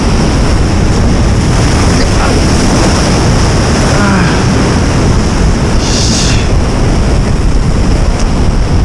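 Sea waves surge and crash against rocks on the shore during bass fishing, a loud continuous roar mixed with heavy wind buffeting the microphone.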